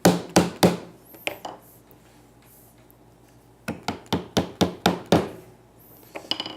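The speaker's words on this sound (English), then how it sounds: "we might need a little persuasion with the hammer" A hammer taps wooden table legs and apron together during a glue-up, giving a few sharp knocks, then a steady run of about eight loud, evenly spaced blows, close and with no talk.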